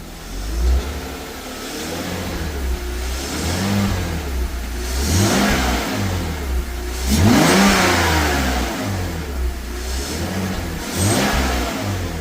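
A BMW E46 convertible engine running steadily after an injector was reconnected, with its pitch rising and falling through several revs, close and loud throughout.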